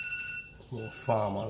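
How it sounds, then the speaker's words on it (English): An oven's temperature alarm beeps with steady high tones running beneath someone speaking close by, quiet and continuous throughout the short moment. "That's the alarm for the oven."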